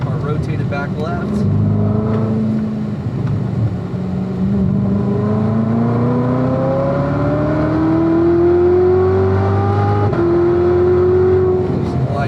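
Chevrolet Corvette C7 ZR1 engine on a race track pulls hard through the gears, rising whine and roar climbing in pitch as it accelerates, loud and close, with a driver talking over it.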